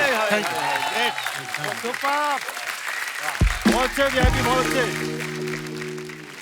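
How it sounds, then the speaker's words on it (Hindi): A studio audience at a televised comedy show applauds beneath someone speaking, the clapping forming a broad wash under his voice. Sustained musical tones enter toward the end. "जोरदार तालियां हो जाए"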